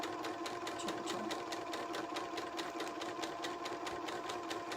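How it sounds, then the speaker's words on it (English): A sewing machine back-stitching across the envelope opening of a fabric book pillow, its needle pattering in a fast, steady rhythm close by and fairly quiet, with no talking. "I'm just going to back stitch over the envelope part and then sew back up to the top."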